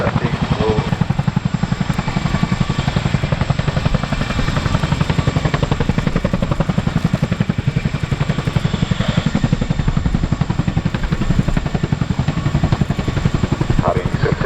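RAF Chinook twin-rotor helicopter manoeuvring during a role demonstration at RAF Cosford Airshow, a loud continuous rapid rotor thudding with engine roar throughout and a faint announcer underneath.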